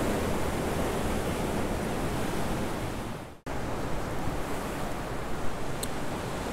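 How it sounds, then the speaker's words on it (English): Ocean waves at Sunset Cliffs beach in San Diego, a steady close roar of surf and wind with a brief dropout midway. "Just got a huge wave that came up while I was over here getting out of some guy's way."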